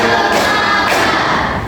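A classroom group claps in unison during an ice-breaking clap game, with two dense bursts of hand claps close by and a voice in the background.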